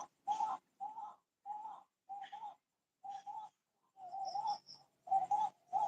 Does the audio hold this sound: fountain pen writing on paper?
no